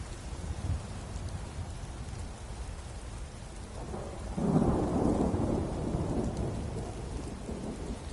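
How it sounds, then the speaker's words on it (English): Steady rain and a rolling thunder rumble in the video game Skyrim, a dense constant downpour with the thunder swelling midway and lingering, with no voices. "I'm taking cold damage because of the rain."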